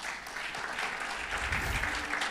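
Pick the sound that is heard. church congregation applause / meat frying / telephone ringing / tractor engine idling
church congregation applause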